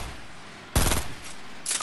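Two loud bursts of gunfire in Fortnite cut through a steady background of game noise, one near the middle and another at the very end.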